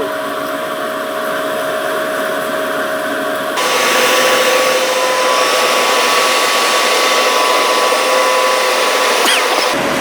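A BLDC atta chakki flour mill with a high-RPM motor runs with a loud, steady whine and strong rushing airflow. It jumps noticeably louder partway through, then holds steady, and no one speaks.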